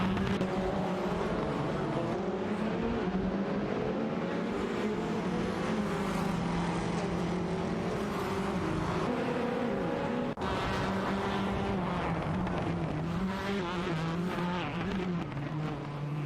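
Video game touring cars, an Alfa Romeo Giulietta TCR and a Honda Civic, race closely with a steady, loud engine drone and shifting revs, tires occasionally squealing, continuous throughout with no talking.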